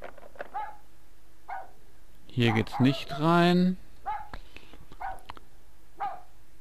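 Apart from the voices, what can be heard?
dog barking in the video game Rule of Rose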